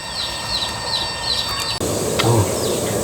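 A maeng id insect calls outdoors with a steady, high-pitched pulsing trill that repeats in regular beats before an abrupt cut, followed by continuing rural background noise.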